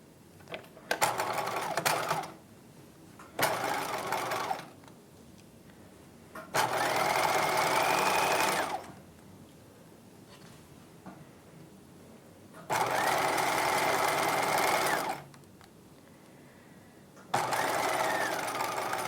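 Pockets are stitched onto a 1950s-style halter dress circle skirt on a sewing machine, which runs in four separate bursts of steady whirring with quiet pauses between them, loud and close.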